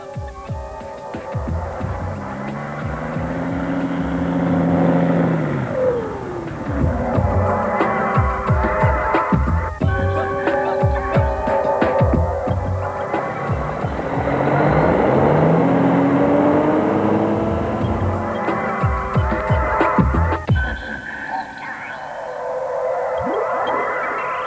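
KTM rally trucks at the Dakar 2001 rally drone and rev loudly, their engines rising and falling in long swells with rattling mechanical texture, one slowing and fading near the end.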